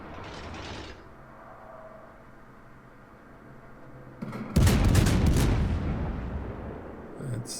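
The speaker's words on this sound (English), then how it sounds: "I'm going to fire on him." Cruiser main guns fire in World of Warships from the Italian Tier-6 cruiser Trento: a soft mechanical lead-in, then a loud close broadband blast that decays into a long rumbling tail, with a further sharp report near the end.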